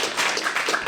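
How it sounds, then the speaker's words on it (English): A panel audience applauds at the close of a discussion, a dense, steady wash of many hands clapping at a distance, even in loudness from start to finish with no voices. "let's give us a round of applause"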